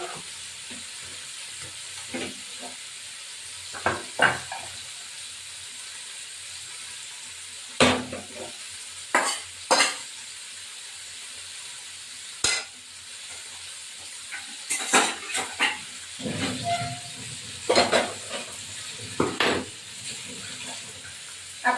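Fish for a Bengali fish curry sizzles gently in a pan while it is turned and stirred. Sparse sharp scrapes and clacks of a utensil sound over a faint, steady frying hiss, with quiet gaps between.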